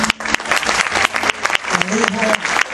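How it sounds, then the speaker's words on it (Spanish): A congregation claps at a church anniversary service for an evangelist, loud crowded applause running throughout with voices calling out over it. "Señor, un aplauso al Padre"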